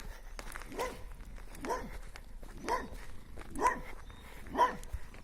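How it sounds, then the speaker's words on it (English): A dog barks in a village lane near pines and water, five or six moderately loud barks spaced about a second apart over outdoor ambience and light footsteps. "Песик, ну что ты лаешь?"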